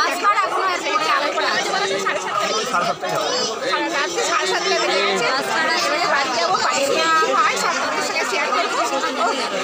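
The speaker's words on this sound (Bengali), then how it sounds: "অনেক কষ্টে ট্রেনটা উঠলাম, প্রচণ্ড ভিড়, প্রচণ্ড ভিড়" Many passengers talk at once inside a heavily crowded train, making a loud, continuous babble of overlapping voices close by.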